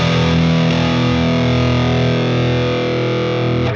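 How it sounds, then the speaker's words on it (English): An electric guitar chord rings out through heavy distortion from a 25-year-old amp, one sustained, loud, harmonically dense chord that slowly decays. "now let's get into the distortion and the clean"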